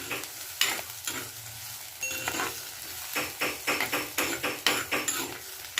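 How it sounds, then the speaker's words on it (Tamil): Bitter gourd slices sautéing in oil, a close sizzle broken by a quick run of rhythmic spatula scrapes and stirs against the pan. "2 நிமிஷம் பாவக்காவை நல்லா எண்ணெயில் வதக்கியாச்சு."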